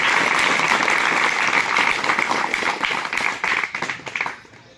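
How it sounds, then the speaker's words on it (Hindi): Audience applause at a district police gathering for candidates in Wadrafnagar, Chhattisgarh, welcoming guests: dense sustained clapping from a crowd, loud at first and thinning into scattered claps before fading out. "आप लोग एक बार जोरदार तालियों से स्वागत करें।"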